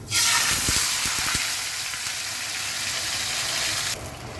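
Black cumin seeds are tempered in hot oil for a potato dish: a loud, steady, close frying hiss with a few dull knocks at the start, easing slightly toward the end.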